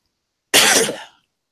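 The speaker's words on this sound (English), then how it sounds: "I have that Jim Cornette cough going now" A single sharp, close cough bursts out loud and fades within about half a second, with silence before and after.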